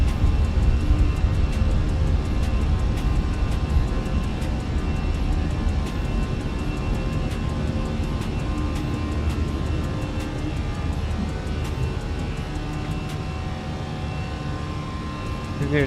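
Airliner on a flight from Pointe-a-Pitre to Fort-de-France taking off, with a steady loud engine roar and rumble heard from inside throughout, as crew voices speak over it.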